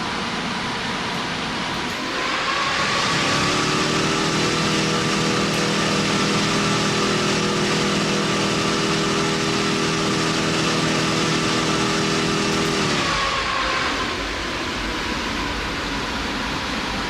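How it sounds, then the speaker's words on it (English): Aircraft engines run in the GeoFS flight simulator game after engine start, a loud, steady roaring hum with layered tones that swell, hold evenly for several seconds, then shift lower. "Now that we have finished our engine start, you can hear the engine layers"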